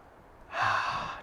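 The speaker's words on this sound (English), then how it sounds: "And then breathe." A single deep inhale, drawn in audibly and held for about half a second after a quiet start, close and soft with a breathy hiss and no talking.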